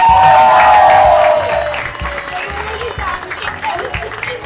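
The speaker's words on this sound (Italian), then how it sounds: "Un applauso alla fortunata." A crowd at a beer painting event bursts into loud applause and cheers, which taper off into scattered clapping and murmuring voices.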